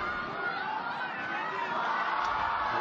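Steady murmur of a football crowd at a Euro Under-17 match as Jadon Sancho carries the ball forward, a broad, distant roar of chatter and rising cheers that stays continuous, with a commentator's voice over it.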